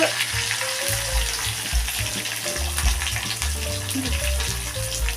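Curry leaves, green chillies and onions crackle and sizzle as they drop into hot tempering oil for a fish and prawn curry, with loud continuous frying and a few stirring knocks close by.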